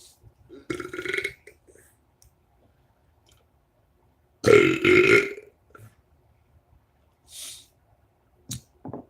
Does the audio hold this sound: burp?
yes